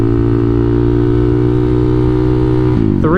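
A Kawasaki KLX300SM motorcycle engine drones loud and close at steady revs, then shifts into second gear near the end with a quick drop and rise in pitch.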